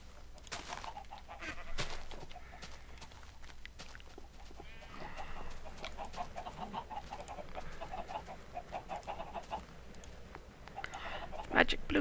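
Video-game chickens roaming an open yard, clucking and squawking in brief bursts throughout, heard under a man's ongoing speech, with a sharper cry near the end.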